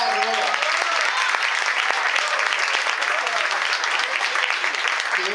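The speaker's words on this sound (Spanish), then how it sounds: "Les pido un aplauso muy fuerte para recibir a Nicolás Garro" Loud, dense applause from a theatre audience at a classical and modern dance gala featuring young musical performers, sustained and even throughout, with a faint voice briefly audible at the start.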